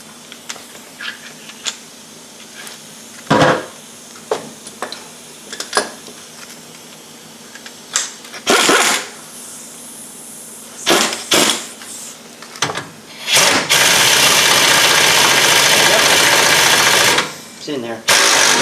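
A small impact gun set on low rattles against the rear shock bolts of a 2010 Nissan Altima, in short bursts and then a longer steady run, loud and close among clanks of tools, with someone talking at intervals.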